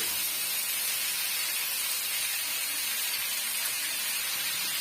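Pirandai, the adamant creeper, is stirred while frying in hot oil, a steady bright hiss and sizzle running evenly throughout at a modest level with no speech.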